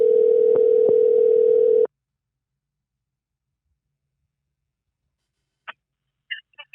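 A telephone dial tone before calling a friend, a steady loud tone that cuts off after about two seconds, followed by silence and a few faint clicks.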